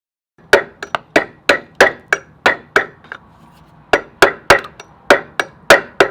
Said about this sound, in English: I can just take some pliers or like some tile nibs and break that around so that it's a round angle